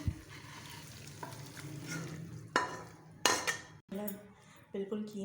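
A metal spoon scrapes and clinks against a pot as keema aloo, minced meat with potatoes, is served out, with soft stirring sounds and sharp clatters at intervals, close up.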